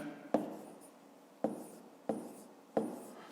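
A pen scratches numbers onto paper in four brisk strokes, evenly spaced and close up, each fading quickly into a quiet room.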